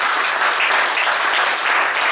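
Sustained audience applause at a sports graduation ceremony in Togo, a dense, steady clatter of many hands clapping close and loud with no gaps, no voices rising above it.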